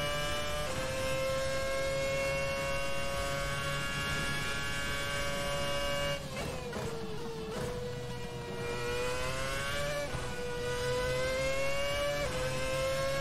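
A Ferrari F1 car in Assetto Corsa howls around Monza, its shrill engine note holding steady, then dipping on downshifts under braking before climbing again through the gears, loud and uninterrupted with no talking.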